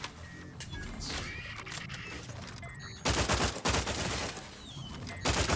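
Gunfire in the video game Outer Worlds 2, a loud burst of rapid shots that breaks in sharply after a quieter stretch, with a second burst near the end.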